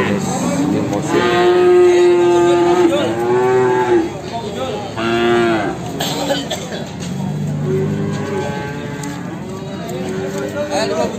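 Several young Limousin and horned calves at the Gorang-Gareng livestock market in Magetan moo loudly and repeatedly, with long drawn-out calls close by over a murmur of market chatter.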